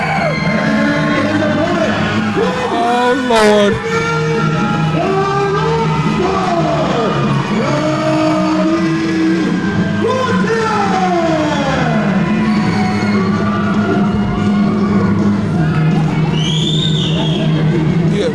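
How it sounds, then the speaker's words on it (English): Wrestling crowd roaring for a hometown favorite, a loud sustained wall of cheers, yells and whistles in a packed arena, with a man's brief exclamation over it. "wait till you hear this crowd with a hometown favorite"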